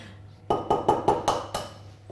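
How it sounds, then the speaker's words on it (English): A hand whisk beats egg whites in a bowl for a jam sponge cake, six quick clinking strokes against the bowl in a rapid rhythm, close and fairly loud, then a pause. "We're just going to whisk our egg whites to start off with"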